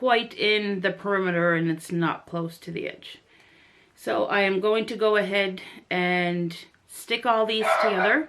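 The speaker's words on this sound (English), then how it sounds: "Sorry for the dog." A pet dog barks and whimpers repeatedly indoors in a home crafting space, its yips mixed in among a person's close talking.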